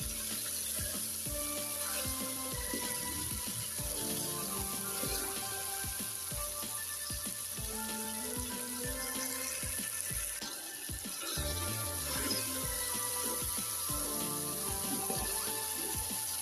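White chickpeas roast in a pan with a steady, dense sizzle and crackle that runs without a break and stays fairly quiet, with no voice over it.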